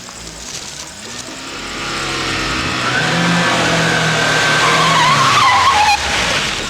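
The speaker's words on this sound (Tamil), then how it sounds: "மின்னல் வேகத்துல ஒரு கார் வருது" A car speeds and skids in the Tamil film Vallavan: a loud engine revs and climbs while tires squeal in long wavering screeches, the noise swelling then easing near the end, with no talking.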